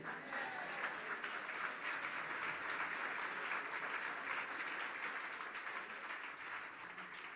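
A church congregation applauds during a bilingual sermon at PCC, steady even clapping heard at a moderate distance throughout, with faint voices underneath.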